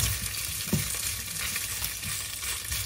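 Shrimp paste browning in a dry pan with no oil for a squash and green bean dish, giving a steady close sizzle and frying hiss with occasional stirring scrapes and no talk.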